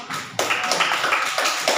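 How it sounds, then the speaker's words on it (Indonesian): A primary classroom group claps for a student, a brief burst of fairly close, uneven hand claps with a few accented hits, no talk over it. "Tepuk tangan dan mulai lagi."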